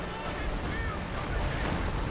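Artillery barrage in Company of Heroes 2, a continuous roar of rumbling impacts and distant blasts throughout, with a voice talking over it.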